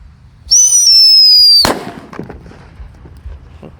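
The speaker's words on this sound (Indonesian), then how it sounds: "Dan di sini ada Whistling Thunder. Kita nyalakan." Whistling Thunder firecracker set off inside a PVC pipe: a loud rising whistle of about a second, then a sharp close bang followed by scattered crackles and debris.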